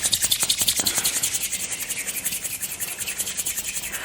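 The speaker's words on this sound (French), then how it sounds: "On frotte une seconde fois ses mains." Palms rubbing briskly together during an eye self-massage routine, a close, rhythmic dry swishing at a quick even pace, alone and fairly soft.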